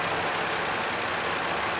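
A 2016 Nissan Frontier's 4.0-liter V6 engine idles with the hood open, a steady, even mechanical rumble and hiss that holds constant throughout, close and moderately loud.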